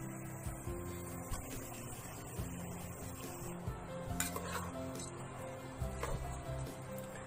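Soaked rice and moong dal being stirred in a pot for Ramadan nonbu kanji porridge, with steady scraping and clinking of a spoon against the metal, a soft continuous bustle with a few sharper knocks.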